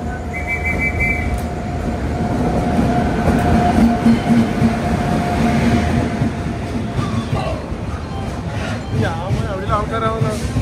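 The Vivek Express at a railway station gives a continuous low rumble with a thin whistle-like tone, while people talk and move nearby. Clattering grows toward the end.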